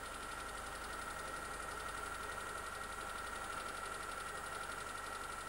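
A 1985 Austin Rover engine with an HIF44 carburettor holds a steady fast idle, a constant close mechanical hum with a whining tone and light knocking throughout.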